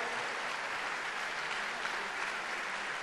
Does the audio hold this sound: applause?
yes